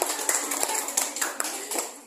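Children clap their hands together at a school gathering, a short run of uneven, overlapping claps at moderate loudness with no talk over it.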